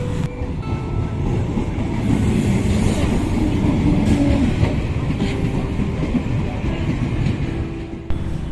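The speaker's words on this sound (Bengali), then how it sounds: "এই দেখো আমাদের ট্রেন চলে এসছে" A crowded passenger train pulling into a station in West Bengal near Baharampur: a heavy, continuous rumble with rhythmic wheel clatter, close and loud throughout, with no talk.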